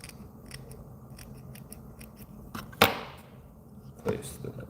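Scissors snip the butt ends of fly-tying materials (calf tail wing) at a fly-tying bench, with a few sharp close cuts and soft clicks over quiet room noise.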